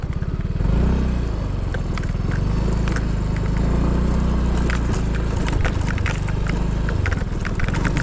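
A motorcycle engine drones steadily and fairly close, a low, continuous rumble that holds for several seconds as the bike passes, with no talking over it.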